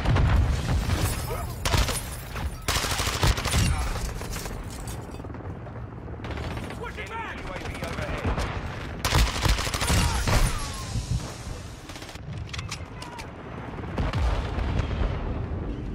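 Dense gunfire from hip firing in a multiplayer video game rattles in rapid bursts mixed with heavy booms for the whole stretch. A voice speaks faintly now and then underneath.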